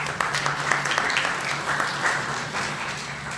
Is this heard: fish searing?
no